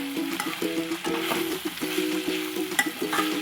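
Tomato curry for a potato and chana dal dish fries in a pan while being stirred, giving a steady close sizzle broken by repeated scraping strokes of the spoon, with no talking.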